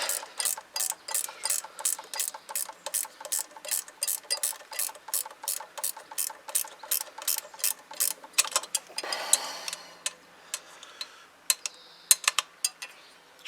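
A ratchet clicks in a fast, steady rhythm while a bolt is turned during assembly of a Zontes Tiger 125 motorcycle, followed by a brief scrape and a few scattered metallic clicks, close and fairly quiet.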